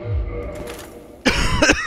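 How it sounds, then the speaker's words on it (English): A single sharp cough from a man playing Dark Souls Remastered, close to the microphone and brief, with faint game audio beneath. "Pardon the cough there."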